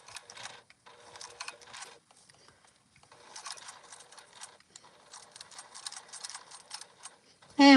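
A sewing machine stitches slowly through a thick seam, giving a faint, uneven ticking of needle strokes in short runs and brief pauses, close but quiet.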